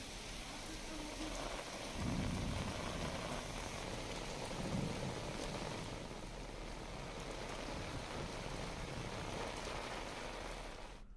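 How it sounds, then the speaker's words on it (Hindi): Heavy monsoon rain pours down in Chhattisgarh, a dense and continuous hiss of downpour with a few swells in intensity, steady from start to finish. "प्रदेश के कई जिलों में मौसम का मिजाज बदला है, झमाझम बारिश हो रही है"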